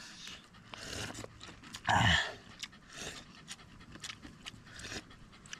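A black dog pants in quick, soft breaths outdoors on a farm, faint and close, with one louder burst partway through.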